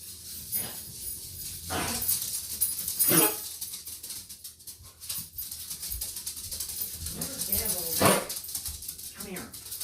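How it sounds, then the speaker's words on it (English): A dog named Miss Sophia whimpers and whines in short, high, thin bursts at a moderate distance behind a person talking, the cries recurring every few seconds. "this dog keeps whimpering"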